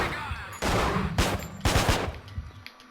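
Gunfire in the video game Manhunt, three or four sharp loud shots in quick succession over a couple of seconds, each with a short ringing tail, against a low ambient game background.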